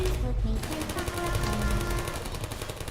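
Portal turrets fire in fast, rattling automatic bursts, loud and sustained for a few seconds with a short sharp break near the start.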